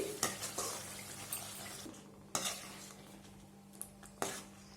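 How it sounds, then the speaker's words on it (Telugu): Cooked rice being stirred into a thick tamarind mixture in a pan, a soft scraping churn broken by several sharp spoon knocks against the metal, close and fairly quiet with no talking. "ఇప్పుడు మనము ఇందులోకి ముందుగా ప్రిపేర్ చేసి పెట్టుకున్న అన్నమును ఇందులో వేసి కలుపుకుందామండి"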